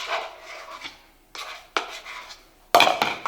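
Spoon scraping and clinking in a bowl while mixing cream cheese with sriracha sauce for poke wontons, in bursts of close, fairly loud clatter and scraping with short pauses between strokes.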